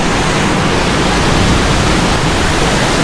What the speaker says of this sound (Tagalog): Silver Mine Waterfalls